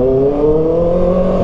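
A 2024 Kawasaki ZX6R motorcycle engine holds a loud, steady high-pitched rev close by, a smooth screaming tone with no voices.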